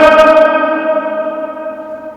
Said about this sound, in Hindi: इस मकबरे के ऊपर एक गुंबद है और यहाँ आवाज़ बहुत गूंजती है